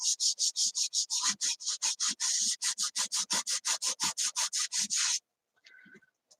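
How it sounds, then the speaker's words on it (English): A Scotch pad is rubbed lightly back and forth over a transformer top, giving a steady series of about twenty rhythmic scratchy swipes, close and fairly quiet, ending with a brief pause and faint handling noise. "It's just rubbing it around with a Scotch pad."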